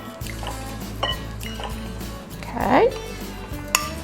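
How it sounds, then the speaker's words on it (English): Heavy whipped cream and sweetened condensed milk being mixed in a bowl, with liquid sloshing, utensil clinks against the dish and a brief louder stir, while a person speaks briefly. "we're gonna start and mix everything together, and that includes the heavy whipped cream"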